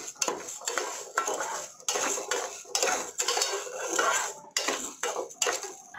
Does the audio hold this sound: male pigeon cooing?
no